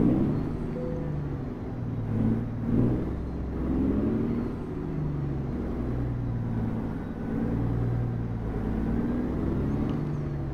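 Diesel rumble of a Cat C15 truck engine in American Truck Simulator, a steady low drone with a slight swell in revs partway through and no voices.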